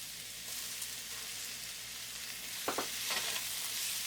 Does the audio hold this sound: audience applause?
no